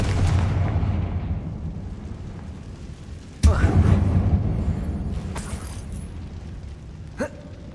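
A Confringo blasting spell in a Harry Potter video game bursts with a sudden loud boom that rumbles and decays over several seconds, preceded by a spoken incantation and followed by faint talk and a small later knock.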